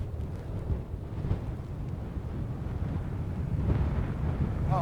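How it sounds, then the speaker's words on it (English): Strong wind on a winter Scottish mountain summit at about -3 degrees, a steady low roar and rumble buffeting the microphone without pause and building slightly toward the end, with no voices. "That wind is brutal."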